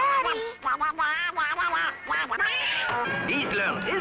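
A duck quacks repeatedly, loud and close, in a rapid series of nasal calls with short gaps between them and a longer, busier burst near the end. No speech can be heard.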